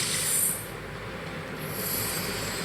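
A train in the Free Fire MAX video game rumbles and rolls past with a steady rail roar and high metallic wheel squeals at the start and again later, without any talk.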